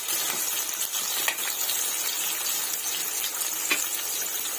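Two medium onions frying in hot oil in a pan, a steady loud close sizzle throughout with occasional faint stirring clicks.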